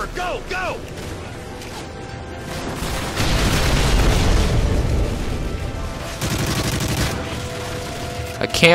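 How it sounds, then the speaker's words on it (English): Call of Duty: Modern Warfare 3 gunfire rips through a firefight, with sharp shots and bursts that swell into sustained loud volleys in the middle, alongside booms and crashes, and a voice heard in places. "Can't when there are people shooting at me"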